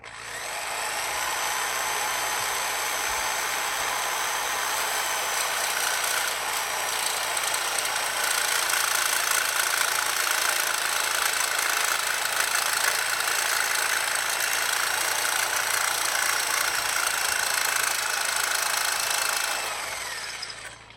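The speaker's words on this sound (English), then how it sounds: "it's time to jigsaw." A jigsaw cuts through wood laminae for a carved propeller, a continuous, close buzzing rasp from the reciprocating blade that holds steady for about twenty seconds with no voices.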